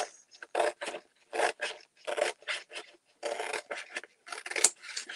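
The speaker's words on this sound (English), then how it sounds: "Then I like to trim the corner, upper right-hand corner." Blade cutting and trimming the corner of a chalk design stencil sheet, a series of short dry rasping strokes in quick bursts with brief pauses, close and clear with no talking.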